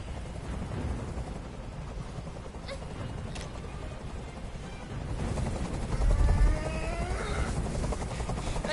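A helicopter hovers overhead in the video game Detroit: Become Human, its rotor making a steady, loud, textured drone that holds throughout, with a low swell of rumble partway through.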